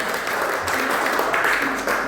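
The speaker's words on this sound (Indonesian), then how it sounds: "tepuk tangan buat Tuhan" A church congregation at a Sunday worship service applauds, giving brief, dense, steady clapping that fills the room with no pause.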